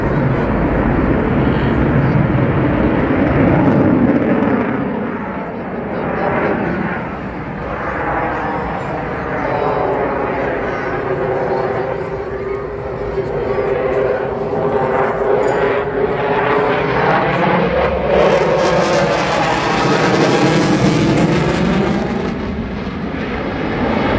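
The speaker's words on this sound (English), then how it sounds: "Aileron roll, and then pitch the aircraft up into the vertical." Jet aircraft with a fly-by-wire system doing an aileron roll and pulling up into the vertical at a 2023 airshow in Ayrshire, Scotland; a loud, continuous engine roar with shifting Doppler-like sweeps, rising to a harsher blast near the end under commentary.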